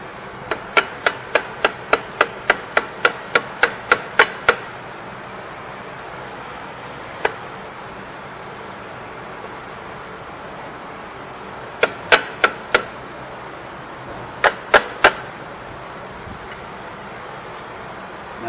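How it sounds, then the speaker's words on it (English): Sharp metallic taps of a screwdriver being hammered against a drum brake shoe, a quick run of about a dozen strikes followed by scattered single and paired hits, close and crisp over quiet background. "Let me get my screwdriver here. Once I hammer it down, making sure that stays seated."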